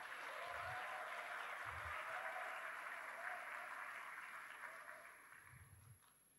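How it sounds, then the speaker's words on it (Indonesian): Graduates and guests at a university graduation ceremony applaud in a large hall, a steady wash of clapping that fades toward the end. "tepuk tangan untuk para wisudawan dan wisudawati"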